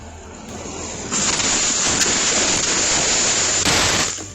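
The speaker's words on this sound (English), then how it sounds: "the Louis Armstrong Stadium was battered by heavy rain and fierce winds" Heavy rain and fierce winds from Hurricane Ida batter the Louis Armstrong Stadium in New York, a loud steady roar of downpour that swells stronger after the first second and holds with gusty surges.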